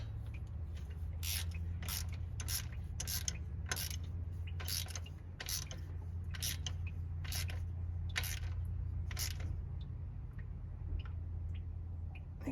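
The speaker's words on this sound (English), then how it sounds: "we're going to go ahead and do it with the ratchet" A ratchet tightens the thermostat housing bolts on a 2006 Chevy Silverado 1500 WT with a 4.3 engine, giving a regular run of about a dozen crisp clicking strokes, close up over a low steady hum.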